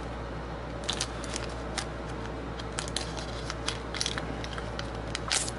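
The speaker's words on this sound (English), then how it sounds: "If you guys hear noise in the background, it's because I have my air conditioner on." An air conditioner runs steadily indoors, a constant broadband hiss with a low hum beneath, while faint crackles and crinkles of handled card packs flicker over it.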